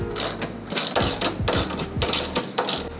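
Socket ratchet tightening the top bolts of a cheap aftermarket coilover, a run of quick clicking bursts with short pauses between strokes, close and fairly loud with no talking.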